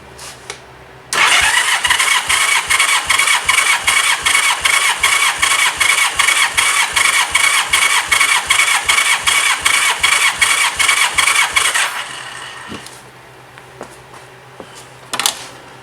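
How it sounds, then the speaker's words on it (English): A Honda Gold Wing engine cranking on the starter with the throttle held open during a compression test, a loud, even, rapid chugging pulse for about eleven seconds that stops abruptly, followed by quiet and a few clicks. "hold the throttle ride open. You'll want to do that to make sure there's as little restriction as possible in the system when you're doing a compression test"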